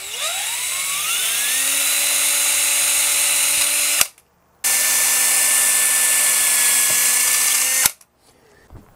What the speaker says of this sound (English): let's get these holes drilled and get ourselves some locator pins put in here